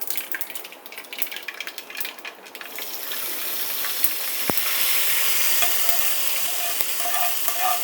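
Hot oil for a tempering crackles and hisses after a brief stirring clatter, the sizzle building into a loud steady spatter with occasional pops.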